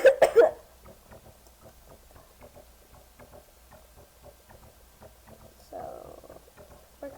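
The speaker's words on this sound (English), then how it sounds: "I'm coughing, but it's because I have a cold." A person with a cold coughs in a quick burst of several coughs at the start, followed by a quieter rough throat sound later, over soft ticking and tapping in the background.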